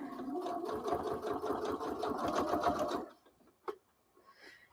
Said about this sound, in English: Make your first 2 or 3 stitches, go back to the edge, and then sew it down.